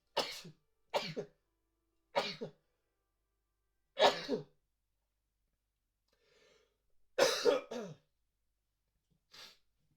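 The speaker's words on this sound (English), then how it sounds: "excuse me, I'm gonna sneeze" A person sneezes in a short series of sharp, close bursts, each breathy and abrupt, separated by brief silences, with a fainter final one near the end.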